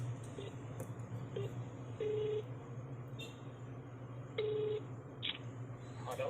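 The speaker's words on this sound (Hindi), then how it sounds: "तो हमने पहले जिनसे बात की थी उनको फोन लगा के कह देते हैं" Telephone keypad tones as a number is dialed on a phone, several short, evenly pitched beeps spaced irregularly over a steady low hum, with one longer held tone.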